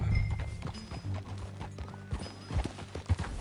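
Horse hooves clip-clopping in Red Dead Redemption 2, a steady run of close hoofbeats over a low game-music drone, with no voices.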